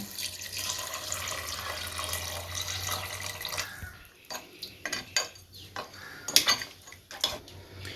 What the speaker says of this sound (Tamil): இப்போ கறி வேகிறதுக்கு தேவையான அளவு தண்ணி சேர்த்துப்போம்